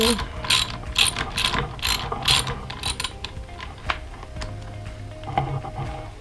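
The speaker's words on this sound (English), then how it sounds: "A screw will come out of here and then these bar ends will come off" A motorcycle bar end screw is being unscrewed, giving off a steady run of close, bright ratcheting clicks in repeated bursts over a soft background hum, with no one speaking.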